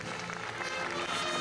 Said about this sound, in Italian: E con un applauso salutiamo Gianni